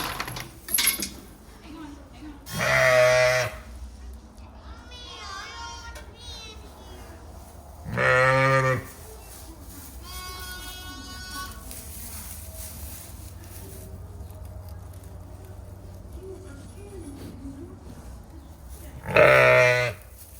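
Sheep bleat loudly in a few separate calls while a ewe and her healthy lamb are being moved. Fainter bleats and background noise sit in between, and someone speaks briefly.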